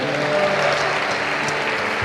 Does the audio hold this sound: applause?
yes